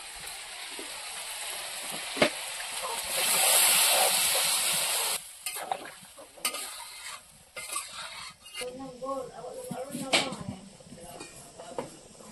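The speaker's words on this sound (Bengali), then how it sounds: "আর এই মাংসের ঝোল মরে গিয়েছে, এবার আমরা জল ঢেলে দেবো।" Water poured into sizzling chicken curry (murgir mangsho) in a hot pan sets off a loud, hissing burst lasting a couple of seconds, followed by intermittent scraping and clattering as the curry is stirred.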